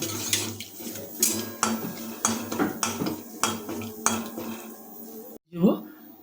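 Whole cardamom, cloves and cinnamon stirred in hot oil, with repeated metal spoon scrapes and clanks against the pan over a low sizzle, close up, ending in a brief pause and a knock.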